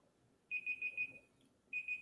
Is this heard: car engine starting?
no